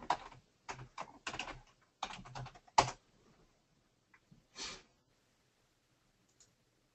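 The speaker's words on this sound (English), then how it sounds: "I actually need to type the correct password." Bursts of fast clicking keystrokes on a computer keyboard while a password is typed at a SQL Server demo, close and fairly loud in several quick runs, then a few scattered single taps trailing off into near silence.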